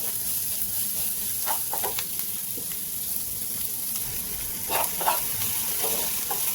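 Food lightly frying in a pan after salt is added, a steady soft sizzle running throughout with a few brief scraping or stirring clicks and sputters near the middle and end, no voices.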